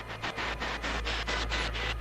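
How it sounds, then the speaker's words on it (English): Spirit box radio device firing up with loud, continuous broadband static, pulsing in a steady rapid sweep rhythm as it scans, with no voices. "What you're hearing right now is the spirit box firing up."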